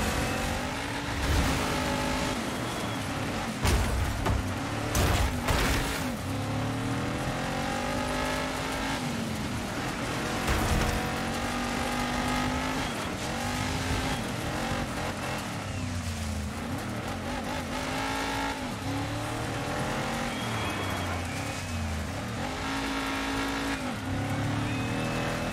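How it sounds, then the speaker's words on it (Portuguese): Race car engines in the Dirt 5 racing game rev and accelerate continuously with shifting pitch, dense and loud throughout, with occasional tire squeals and skids mixed in. "Vamos, acelera, acelera, Júlio, acelera."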